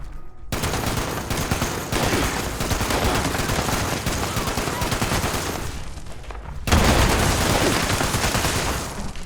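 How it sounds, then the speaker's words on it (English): Rapid automatic gunfire with explosive ammunition in the video game Fallout 76, a dense, loud stream of shots and bursting impacts that runs almost without pause, briefly cutting out before resuming even harder. "I love how this gun just, with this explosive ammo, just makes a mess of everything"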